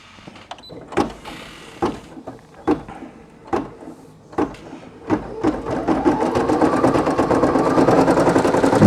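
A Brother PE800 embroidery machine stitches a logo onto a T-shirt, first with spaced single thumps and then settling into a steady, rapid, loud stitching rhythm up close.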